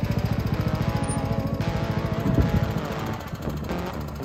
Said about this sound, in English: Granny's old mower seems to be doing all right.